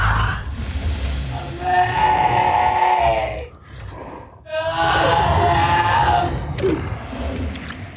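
Piercing, screaming cry of the mutated creature in the film Annihilation, mimicking a woman's scream; two long, loud, wailing bursts with a brief gap between, harsh and echoing.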